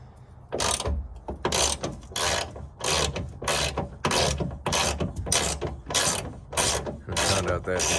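Ratchet wrench loosening the nut on a ditch pod light mounting bracket, giving about a dozen loud, close bursts of rapid clicking in a steady back-and-forth rhythm with short pauses between strokes.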